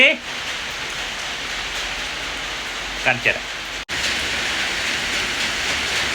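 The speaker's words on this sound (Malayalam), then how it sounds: "നല്ല മഴയാ കുറച്ച് നല്ല മഴ പെയ്യുന്നേ" Heavy rain falls in a constant dense hiss throughout. A voice speaks briefly at the start and again near the middle.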